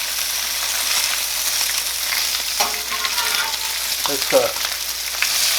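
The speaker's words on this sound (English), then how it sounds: "It don't take long to get some bacon done on this setup" Bacon fries on a Blackstone griddle in a garage, giving a loud, steady sizzle throughout, with a few scraping turns of a spatula and one brief spoken word.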